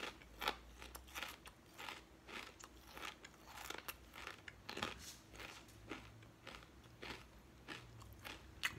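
Crunchy bites and chewing of Zapps Spicy Cajun Crawtators potato chips, a steady run of sharp, close crackling crunches repeating every half second or so, with no talking over them.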